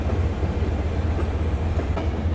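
A train rolls steadily through a tunnel in the video game Zompiercer, with a constant low rumble and faint rhythmic clatter of the wagons, close and loud and without any talk.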